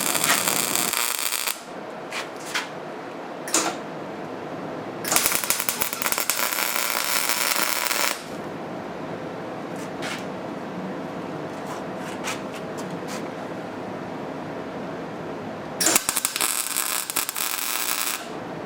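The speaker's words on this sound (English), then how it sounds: "he's welding all the bottom, just tacking little pieces of the bottom" Tack welding on the underside of a motorized scooter frame: loud bursts of crackling arc hiss that start and stop in separate short welds over a steady background hum.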